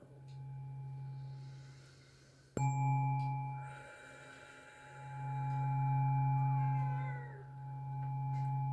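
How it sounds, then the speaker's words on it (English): A cat meows in drawn-out, plaintive calls over a steady low hum and soft ringing tones, with a sharp click partway through. "And as always, you can hear my kitty Climber in the background."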